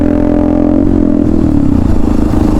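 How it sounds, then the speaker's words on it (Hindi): A KTM Duke 200 motorcycle rides past close by. Its loud engine drone drops in pitch as it goes by, with some rattle. "तो चेक करो भैया ने कौन सी बाइक ले रखी है भाई"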